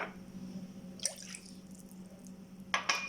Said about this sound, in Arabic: هنحط الخل، الزيت الاول اهو، والخل، والميه،